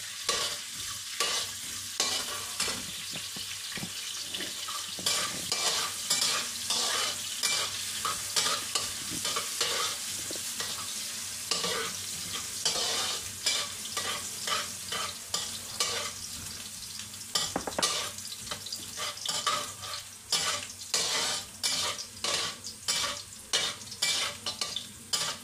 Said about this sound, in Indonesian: minyak, tumis sampai harum.